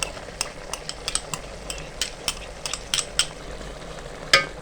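Aloo palak with added yogurt being stirred in a pan: a low continuous frying hiss with a string of sharp utensil clicks and scrapes against the pot, one louder clack near the end.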